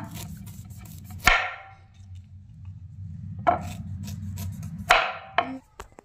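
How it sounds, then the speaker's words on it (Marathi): Beetroot being cut with a knife on a board: a few sharp, separated chops and thuds spaced a second or two apart, close and fairly loud over a low background hum, with no talk. "बीट जे आहे ते पुढचा नको असलेला भाग कट करून घ्यायचा"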